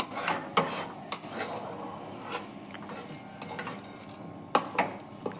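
Pea greens sizzle gently in a hot pan while a utensil scrapes and clacks against it every so often.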